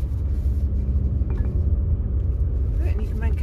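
A car driving on a road gives a steady low engine rumble and road noise, with people talking over it throughout.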